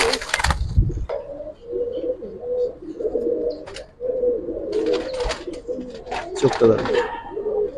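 An old-breed Giribaz pigeon in a loft coos in repeated low throaty phrases, close by, while someone talks over and between the calls.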